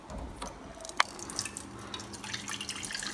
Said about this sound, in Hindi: मैं इसमें थोड़ा सा पानी ले लेती हूँ